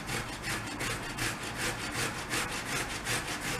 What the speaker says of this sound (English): I prefer to grate it with this big holes of grater